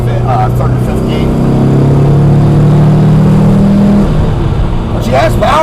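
An old Porsche, back on the road after about thirty years, drives along with a steady engine drone that rises slightly in pitch and then eases, loud and close, with brief speech at the start and end.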